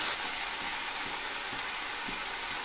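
Ginger and green chilli paste sautéing in a pan, a steady close hiss of frying with faint stirring scrapes running underneath throughout.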